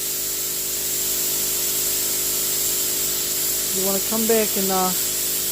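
An airbrush hisses steadily, spraying paint on a Mazda RX4 drift car under custom paintwork, with a voice speaking briefly near the end.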